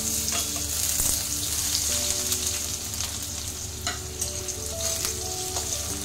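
Small cut potatoes fried lightly in a pan for a banana-flower dish hiss in a loud, continuous sizzle up close, broken by occasional clinks and scrapes of a spatula.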